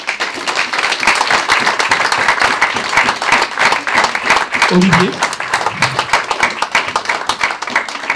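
An audience at an app demo event at Le Wagon Lyon applauds a presenter, brisk crowd clapping with a few distinct sharp claps, loud and steady, with a brief voice speaking through it.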